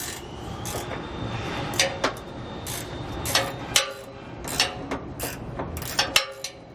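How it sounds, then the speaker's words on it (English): Metal clicks, scrapes and short ratcheting bursts of a 15 mm wrench working a nut loose under a 2018 Ford truck, close and intermittent over a low rumbling background. "So I'll take a 15 millimeter wrench and get it removed."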